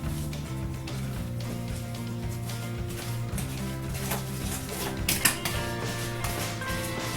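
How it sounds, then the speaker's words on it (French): Sugar is stirred into a thick apple cake batter, making a continuous rhythmic scraping and creaking churn that stays close and fairly loud throughout. "on vient touiller et mélanger le sucre"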